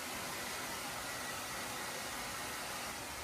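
A hair dryer blows steadily on freshly shampooed, colour-treated hair, a loud, constant close-up whoosh of air lasting the whole moment with no talking.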